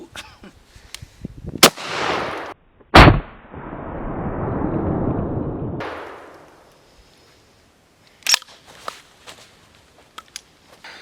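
A Waltter Super X Turkish pump-action shotgun is fired without its stock, giving three loud, sharp blasts spaced apart. Each blast is followed by a rolling rumble and some fainter knocks and handling clicks.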